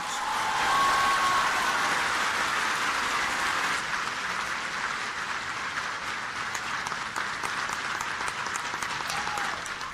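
A large graduation crowd gives sustained, loud applause after a speech, with dense clapping that swells early and then holds steady across the whole stretch, under faint background noise.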